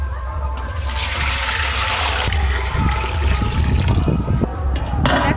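Water runs loudly and continuously from a tap while rice is prepared for chicken biryani, a gushing splash that shifts in tone as the stream fills a vessel.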